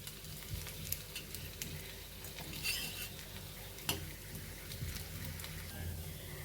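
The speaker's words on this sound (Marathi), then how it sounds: "हे शॅलो फ्राय करताना अजिबात गॅस मोठा करायचा नाही" Coriander fritters (kothimbir vadi) shallow frying in a pan over low heat, a steady soft sizzle with occasional light stirring and utensil clicks, close and moderately quiet throughout.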